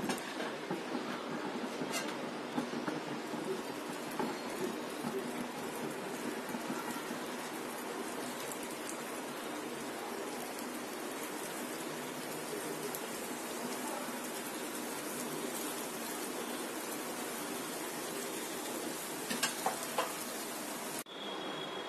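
Pieces of dessert dough made from flour and sour yogurt fry in hot oil, a dense, steady crackling hiss that runs without a break, with brief sharper pops near the start and end.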